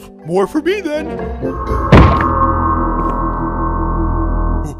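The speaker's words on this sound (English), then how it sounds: "I think that sound was the front door closing" A cartoon front door in an animated Minecraft scene shuts with a single sharp thunk right after a short line of speech, followed by a low lingering rumble and ringing tone.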